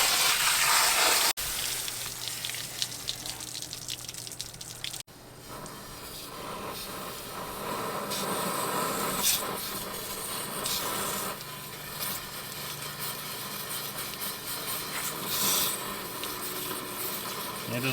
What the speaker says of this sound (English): And just rinse it out until it looks fairly clean.